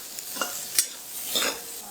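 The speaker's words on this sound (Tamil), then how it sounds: "அதை ஒரே ஒரு தடவை நம்ம லைட்டாக சாட்டே பண்ணி எடுத்துக்கலாம்" Boiled chicken pieces being sautéed with chili powder in a kadai, a soft sizzle broken by several sharp scrapes and knocks of a spatula stirring against the pan.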